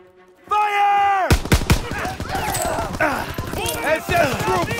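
Heavy gunfire in a World War II video game set in the Hurtgen Forest, Germany, breaks out after a steady droning tone: sharp repeated shots and cracks fill the scene, with shouted voices and battle noise underneath.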